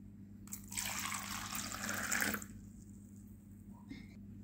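Water is poured from one glass into another in a burst of splashing and trickling lasting about two seconds, followed by a faint drip, all close by.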